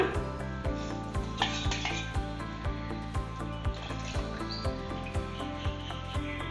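Tomato-tamarind water being poured into a pot of selavu rasam, with steady, evenly spaced clinks and knocks of metal utensils against the pot alongside the liquid, close and fairly loud, with no talking.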